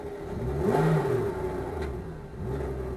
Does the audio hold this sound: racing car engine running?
yes